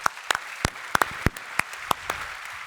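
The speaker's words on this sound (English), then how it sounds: "I would like to just start with a huge round of applause for David Sacks" A few loose, separate claps at an AI policy event, uneven and close, fading quickly.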